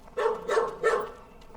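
A dog in Microsoft Flight Simulator's Antarctic setting lets out three quick barks in a row, clear and fairly close, then falls silent.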